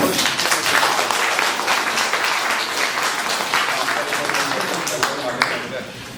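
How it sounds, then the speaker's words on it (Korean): Group applause from staff and members closing a farm cooperative's overseas training trip in Bangkok and Pattaya, a steady dense clapping wash that fills the whole stretch with some voices mixed in. "고생했다고 박수 한번"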